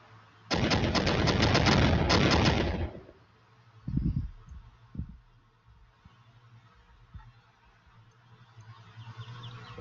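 Mark 19 grenade launcher firing during an infantry combat exercise: a loud, dense burst of rapid automatic fire for about two seconds, then a brief second burst, followed by a few scattered, fainter thumps and outdoor ambience.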